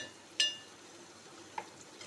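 A spoon clinks against a pan while chana dal curry with onions, green chillies and curry leaves is stirred, giving two faint, sharp metallic taps over a soft background.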